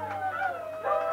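A blues singer imitates a wolf howl, a short, wavering, rising and falling vocal wail lasting about a second, with a steady low hum underneath.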